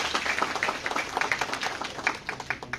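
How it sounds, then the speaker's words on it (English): Scattered applause from a group of new MBA students at a welcome event, a moderate patter of individual claps with an uneven rhythm, heard at a middle distance. "a lot of applause to you and a lot of good wishes for your future"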